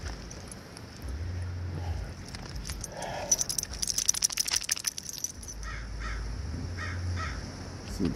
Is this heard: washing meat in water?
no